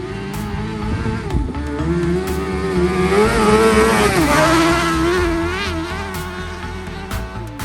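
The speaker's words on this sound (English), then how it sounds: "We ended our trip in the dunes getting some flyby buggy footage." A dune buggy with a GSXR 750 or Hayabusa engine roars past in sand dunes, its engine rising in pitch as it nears and falling away as it passes, loud and close.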